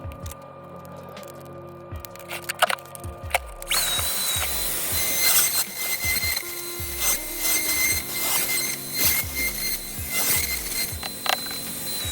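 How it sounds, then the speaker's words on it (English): A power drill bores a hole through a wooden top plate during a cable installation, with repeated bursts of grinding and whirring and some ratcheting mechanical clatter. Quieter stretches fall between the bursts, and a brief quieter lead-in comes first. "I'm gonna be drilling my own hole to maintain some distance from the power"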